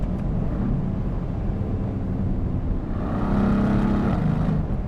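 A Mercedes-AMG GLC63S Coupe engine drones steadily as it drives through the gears in comfort mode, with a brief pitch change suggesting a shift midway; the sound is close and continuous, with no talking.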